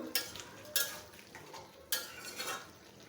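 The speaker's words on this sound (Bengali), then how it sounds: "আর একটু কষিয়ে নেব আমার মিষ্টি কুমড়াটা" Pumpkin with shrimp is stir-fried in a pan, with a spatula scraping in a few soft, uneven strokes over a faint sizzle, close by and quiet, with no talking.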